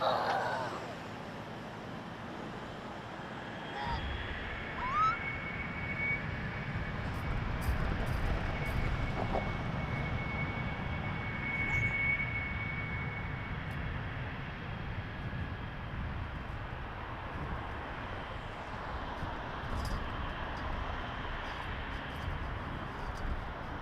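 An Air Canada Boeing 787 Dreamliner bound for Vancouver powers up for takeoff from runway 23 at Toronto Pearson, a broad distant jet roar that swells and holds steady for over twenty seconds, with a voice talking at times.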